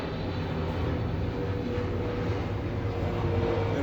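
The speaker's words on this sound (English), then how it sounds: "gotta wait the jet go over" A jet airplane passes low overhead on approach near LAX, a steady, loud broadband roar that fills the whole stretch without letup.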